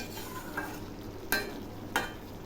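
Ground spice paste, thinned with a little water from the grinder jar, stir-fried in a pan for a vegetarian drumstick and potato dish: a soft steady sizzle with two sharper scraping stirs of the spatula, no voices.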